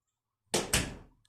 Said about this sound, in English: Let's see what happens when I open the door.